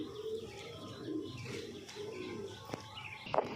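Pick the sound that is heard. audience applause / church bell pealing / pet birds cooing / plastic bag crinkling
pet birds cooing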